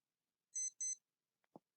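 Alarm clock beeping: two quick high-pitched electronic beeps in a row, clear and isolated, followed by a brief soft thump.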